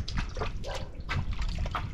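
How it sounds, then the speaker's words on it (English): Water pouring steadily into a tank as it fills, a continuous rushing splash with light dripping, close and fairly loud, with no talking. "let's wait for this tank to fill with water"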